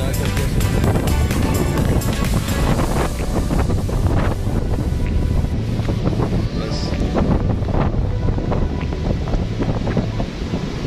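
Sea waves and strong wind at a beach in Carmen, Agusan del Norte, on a rainy day, heavy buffeting wind noise over a constant surf rumble, with a voice talking faintly in places.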